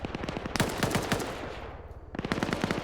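Rapid bursts of automatic gunfire in a video game, several volleys of sharp repeated shots with a short gap before another burst.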